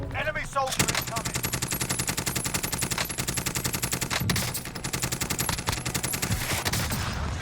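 Sustained automatic fire in Call of Duty Warzone from an FFAR 1 rifle, a fast, loud and unbroken stream of shots with a brief break midway, a voice faintly under it.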